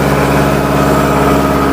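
Kubota MU4501 tractor engine running at mid-range RPM with the PTO clutch engaged to drive a rotavator, a loud, close, steady diesel drone with a throbbing low hum and no talk.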